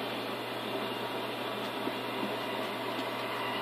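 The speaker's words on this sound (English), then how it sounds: "He, Daryl here is a BR Class 17 diesel." Steady low rumble of an idling BR Class 17 diesel shunter locomotive engine in a video game, continuous and even, with a faint rattle over the drone and no voices.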